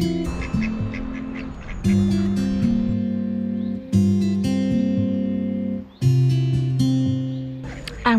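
Ducks in Bibury in the Cotswolds feeding in a frenzy, with loud, near, overlapping quacks and honking calls that run almost continuously through the stretch with only brief dips.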